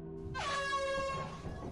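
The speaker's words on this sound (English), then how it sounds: "chill with air horn" Air horn blast in the video game Lethal Company: a loud, sustained blaring tone with rich harmonics lasting about a second, sounded once over quiet background.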